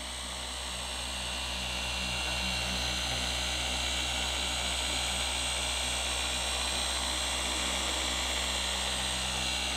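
A polishing machine with a cutting pad works the paint on a Camaro, a loud continuous high whine and buzz that rises slightly at the start and then holds steady and close.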